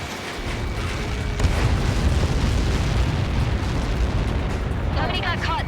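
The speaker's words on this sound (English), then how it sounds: "How many got caught in that explosion?" A massive missile impact in the flight combat game Ace Combat 7 erupts into a loud, sustained rumbling roar that fills the scene, with faint radio voices breaking in near the end.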